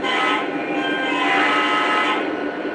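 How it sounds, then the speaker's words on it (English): Model train sounding a whistle or horn during a model railroad running session: one steady, shrill, sustained tone held loud and unbroken for just under three seconds, with no talk. "That shrilling whistle or horn."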